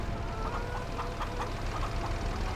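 Farm chickens in the Farming Simulator 22 video game cluck in short repeated bursts under a loud, steady background hum.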